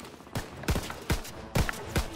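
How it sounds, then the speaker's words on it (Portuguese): Gunfire in the Call of Duty WWII campaign, with about six sharp, separate shots cracking at irregular intervals, each one a short punchy report over a low background, fairly quiet overall. "Ficou pegando tiro ali no arame."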